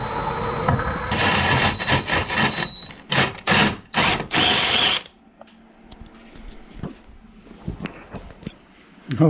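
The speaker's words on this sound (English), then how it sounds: "we're going to drill the big hole next here" Loud bursts of power drilling a large hole in a desk grind and whine in close succession, then give way to quieter scraping and handling noises.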